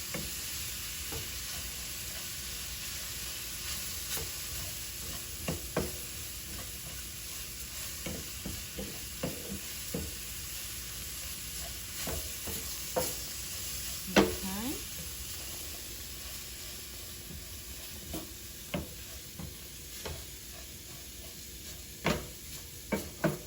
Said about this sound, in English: we will add the rice here in the pot and let it toast it for a minute